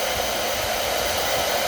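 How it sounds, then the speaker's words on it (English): A hair dryer blows steadily at close range, heating the CPU of an Xbox 360 Slim during a red-dot-of-death repair, a constant broadband rush with no breaks and no talk. "Alright, so I have my hair dryer and just pretty much heat this CPU"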